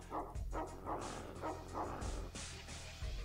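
A dog in the video game X-Com Files barks in a quick repeated series of short, yelping woofs, fairly faint, with no talk over it.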